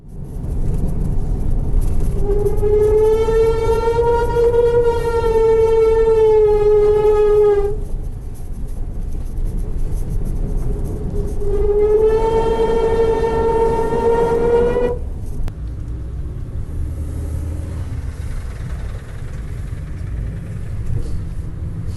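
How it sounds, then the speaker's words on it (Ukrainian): Worn brakes on a moving route 157 minibus in Dnipro squeal loudly in two long, drawn-out whines over a steady engine and road rumble, with no talking. "Скрипучі гальма та відчинені двері під час руху."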